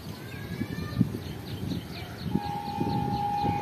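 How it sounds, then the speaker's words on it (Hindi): The 149 Up Mehran Express passenger train, running between Karachi and Mirpur Khas behind an HGMU locomotive, arrives at Chanesar Halt station with a steady rumbling approach and a long sustained horn blast rising near the end. "तो दोस्तों ये आ रही है कराची और मीरपुर खास के दरमियान चलने वाली 149 अप मेहरान एक्सप्रेस"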